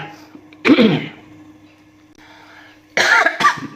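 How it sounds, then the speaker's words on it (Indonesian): Two harsh coughs sound up close, the second a quick double burst, separated by a quiet stretch of low background hum. "batuk."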